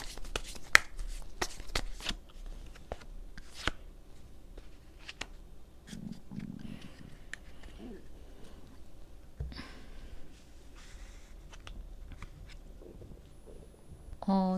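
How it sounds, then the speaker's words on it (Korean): Tarot cards shuffled and drawn during a reading, a few crisp riffling bursts and flicks early on, then softer handling and card slides, close and fairly quiet with light breathing. "조언 카드 좀 뽑아보겠습니다"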